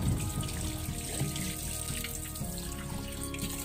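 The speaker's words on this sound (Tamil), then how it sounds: "மட்டனை நல்லா வாஷ் பண்ணிக்கோங்க." Running tap water flows steadily over mutton bones being washed in a kitchen sink, a continuous close splashing and trickling with no talk.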